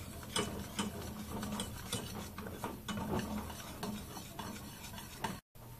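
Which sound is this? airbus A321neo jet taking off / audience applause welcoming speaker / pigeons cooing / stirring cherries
stirring cherries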